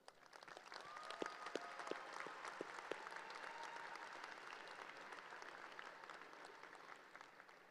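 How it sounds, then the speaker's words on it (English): Faint, distant applause from a high school graduation ceremony audience, with scattered individual claps standing out early before the clapping settles into a steady crowd wash. "you deserve a round of applause"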